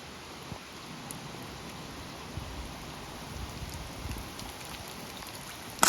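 Steady rain falls in the Blue Mountains on a rainy day out near waterfalls, a continuous soft patter and hiss with a brief louder burst at the very end.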